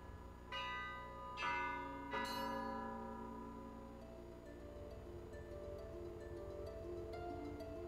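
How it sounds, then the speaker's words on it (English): Cathedral bells of Holy Ascension Cathedral in Unalaska, rung by pulling ropes: three bright strikes in quick succession, then a long ringing decay of overlapping tones, fairly near and alone. "I play the bells at the Holy Ascension Cathedral here in Unalaska"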